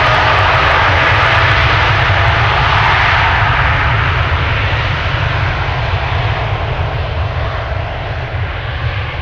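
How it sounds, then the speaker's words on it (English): A Boeing 787-10 bound for New York takes off at Amsterdam Schiphol. Its jet engines make a loud, continuous roar close by, holding steady and easing only slightly toward the end. No talk. "after the 787-10 to New York has taken off"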